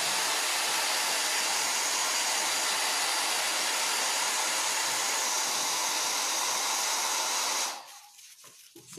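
A hair dryer blows a loud, steady close-up whoosh while drying paint on a stenciled country-style craft piece, then cuts off near the end, leaving a few faint handling sounds.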